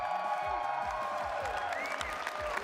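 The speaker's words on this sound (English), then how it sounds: "Give it a round of applause, TRUEWHALE" An esports audience at a Summoners War tournament gives a steady round of applause with some cheering for the champion, heard at a modest distance under echoing hall sound.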